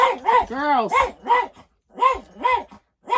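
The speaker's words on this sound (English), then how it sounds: "we got the old one barking" A dog barks repeatedly at close range, a run of sharp yelping barks with brief gaps, plus a drawn-out whining howl early on.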